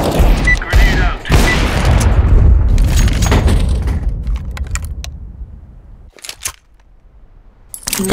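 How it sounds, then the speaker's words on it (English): Grenade explosion in CS:GO, a loud close boom followed by a long rumbling decay that fades over several seconds, with a few sharp clicks and clinks afterward. "Grenade out."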